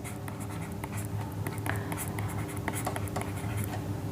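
A pen scratches continuously across paper as a math function is written out by hand, a faint, steady scribble of short strokes over a low background hum, with no talking.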